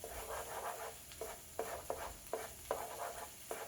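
Food in a paella pan stirred over medium-high heat, a scraping pass repeating every half second or so over a steady soft sizzle, close and fairly quiet.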